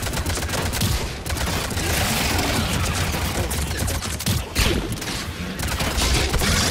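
A grenade explosion and bursts of rapid gunfire fill a Mass Effect 3 multiplayer match, with dense, crackling shots piling up continuously at close range and no talking.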